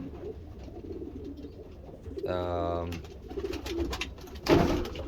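Pigeons in a loft aviary coo in a steady background murmur, with a young bird courting the breeders; a strong, close, buzzy coo stands out midway, followed by shuffling and a louder bump.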